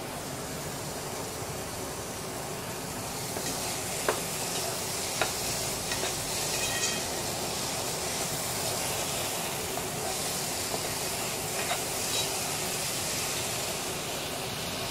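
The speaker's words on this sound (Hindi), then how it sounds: "अब हम इसको अच्छी तरह हिला लेंगे ताकि जो मसाला और सारा ये चीज़ें मिक्स हो जाएं" Diced butternut squash, onions and tomato with spices being stirred in a hot pan: a steady close frying hiss all the way through, with occasional light scrapes of the spoon.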